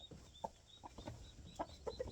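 A rooster on its first day of fight training gives several short clucks and squawks, some louder than others, at close range over faint background noise.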